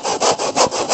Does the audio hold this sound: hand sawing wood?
yes